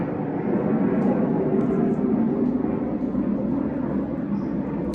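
An airplane drones overhead, a steady low rumbling roar holding at moderate distance for several seconds with no speech.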